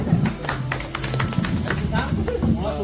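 School friends reunited after 25 years clap together, a quick burst of hand claps running under continuous talk.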